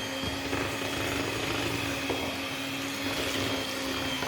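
An electric hand mixer mixing pempek fish dough, a steady mechanical whirring hum with a faint high whine running continuously throughout, close and fairly loud, with no talking.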